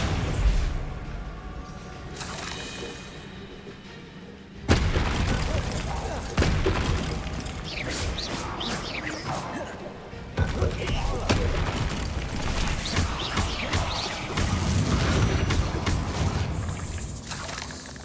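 Bombarda blasting spells in Hogwarts Legacy, several sharp loud booms that break in abruptly amid continuous combat noise and game clatter, with voices talking over parts of it.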